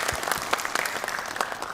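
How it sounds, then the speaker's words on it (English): Brief applause from a studio audience for a mental-health panel on a Nairobi health programme, a short burst of many hands clapping at moderate volume. "Another round of applause to our panel."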